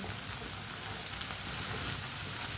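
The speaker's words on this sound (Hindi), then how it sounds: "ऐसे ही चम्मच चलाते हुए इसे हल्का सा ब्राउन करना है।" Okra (bhindi) sizzles steadily while frying in a pan and being stirred with a spoon, a constant soft crackle with no voices.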